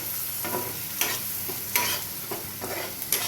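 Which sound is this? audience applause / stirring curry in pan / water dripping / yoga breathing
stirring curry in pan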